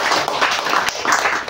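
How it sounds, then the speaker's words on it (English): A crowd at a public program gives a round of applause, dense clapping that swells and dips over a short stretch, loud and close, with no talking over it. "So please give them a round of applause."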